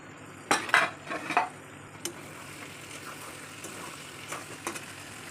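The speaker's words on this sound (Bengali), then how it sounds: "ঢাকাটা এখন খুলে দেখি কীরকম হয়েছে" A metal lid clanks off a pot of broiler chicken curry on the stove, with a few sharp close clatters followed by soft bubbling and occasional light scrapes.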